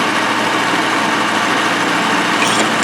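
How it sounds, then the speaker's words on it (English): A loud, steady motor whine of a power drill boring a hole sized for 3/4 inch threaded rod, continuous and close for the whole stretch, with no talking. "I basically got this drill right here to get right to the diameter I'm looking for, one shot"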